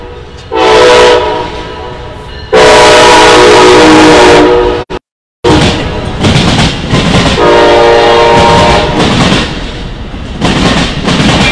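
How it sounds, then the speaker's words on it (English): A passing train sounds loud, sustained horn blasts that start and stop over the steady rumble and clatter of rail cars rolling close by. There is a brief dropout midway before the horn returns. "Hold on, we're going to pause because of the train."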